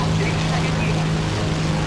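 Loud aircraft or vehicle engines in War Thunder, a constant low drone with a sustained hum underneath, steady and close, with some voice activity mixed in.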